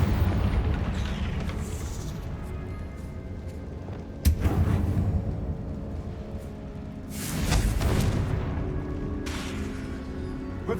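Confringo spell explosions in Hogwarts Legacy, heavy booming blasts, one sharp hit near the middle and a longer rumbling burst later, over a steady background ambience.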